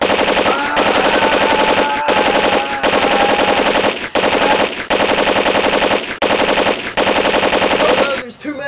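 Sustained automatic AK-47 fire in an action film, loud and close, with long bursts broken by brief pauses, ending in a short gap before other sound.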